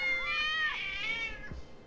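A cat in the video game Persona 4 gives a single drawn-out, wavering meow with a rising and falling pitch, clear and close, trailing into a soft thump at the end.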